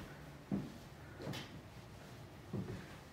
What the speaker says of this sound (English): Put a new barn door on here.